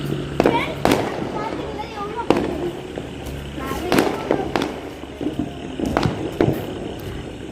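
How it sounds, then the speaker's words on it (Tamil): Diwali firecrackers bursting at a new house, sharp loud bangs scattered irregularly through the clip, some near and some farther off, with people talking underneath. "ஒரு வெடி போகுது பாருங்க."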